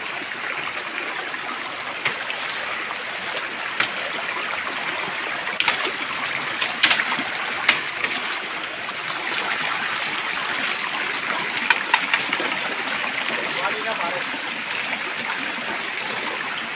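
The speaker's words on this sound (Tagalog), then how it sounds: "Sa ilog naman kami ngayon." A river stream flowing through a forest, steady broadband rushing and trickling water heard close and continuous, with faint occasional clicks and no voices.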